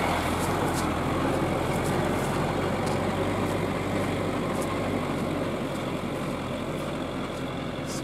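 A Sobol 4x4 van climbing a mountain ridge track in low gear, its engine a steady, loud drone with a deep hum and broad road rumble, unbroken throughout with no talking.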